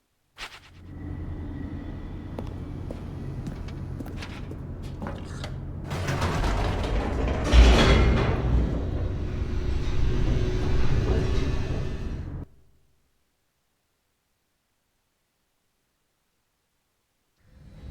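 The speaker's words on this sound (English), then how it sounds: "The elevator raced downward. plummeting towards an unknown fate." Elevator descending in the video game The Stanley Parable: sustained mechanical rumbling with creaks and grinding, growing louder midway, then stopping abruptly and leaving silence.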